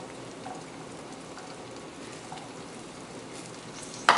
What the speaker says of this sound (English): so just let them saute